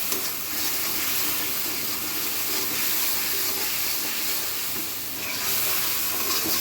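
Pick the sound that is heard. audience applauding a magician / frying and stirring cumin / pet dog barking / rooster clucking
frying and stirring cumin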